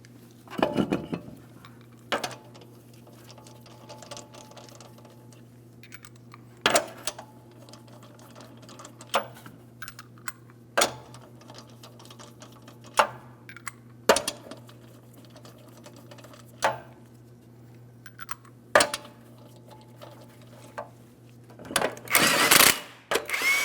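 On a 2003-2008 Toyota Matrix front wheel, 21mm lug nuts are run down with a series of sharp, evenly spaced ratcheting clicks and metallic taps over a steady low hum, ending in a louder burst of clatter.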